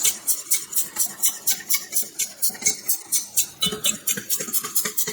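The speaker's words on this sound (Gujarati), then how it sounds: "આવી રીતે આપણે માવાને દૂધની અંદર મિક્સ કરી લઈશું." Mava being stirred into hot milk in a pan, rhythmic scraping strokes repeating about twice a second, close and fairly loud, with no talking.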